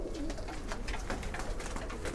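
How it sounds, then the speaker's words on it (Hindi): A Kasmi pigeon coos close by in a quiet room, soft repeated throaty coos in a loose rhythm over a low background hum, with no talking. "ये कासमी कबूतर उठाओ जरा"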